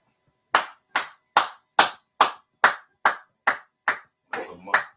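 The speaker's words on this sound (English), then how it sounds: "Clap it up for that man." Ten sharp, evenly spaced hand claps ring out one after another in a dry, close space, the last pair slightly rougher, with no other sound between them.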